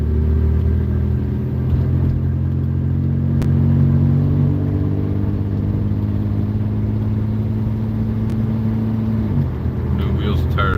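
A 1974 Volvo car, riding on new wheels and tires, cruising steadily down the road with a constant low engine drone and road rumble from inside the cabin, holding level throughout.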